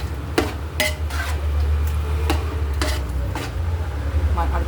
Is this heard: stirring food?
yes